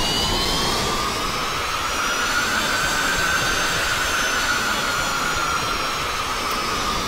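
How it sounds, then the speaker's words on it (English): A synthesized spaceship engine sound effect gives a steady, unbroken roar with a high whine riding on top, holding at an even loudness throughout with no voices. "with an engine sound such as this"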